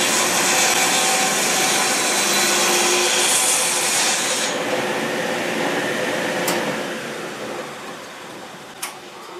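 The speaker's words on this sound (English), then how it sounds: "So I can just use the miter fence and cut straight across." Wood being cut straight across against a miter fence for a cittern neck replacement, a loud, steady saw-like rasp that cuts off about halfway through and is followed by a quieter hum and a couple of faint clicks.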